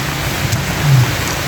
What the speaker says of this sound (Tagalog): umulan na ng tuluyan